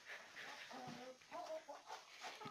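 Chickens and roosters on a Zonguldak poultry farm cluck and call in a steady, close jumble of overlapping fowl voices, with some brief speech mixed in.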